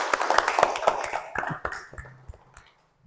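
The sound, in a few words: class applauding a student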